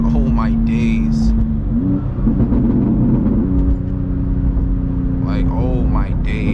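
A loud BMW M2 rumbles steadily through heavy New York City traffic, its engine note dropping and rising through gear changes, with people talking over it and car horns sounding briefly.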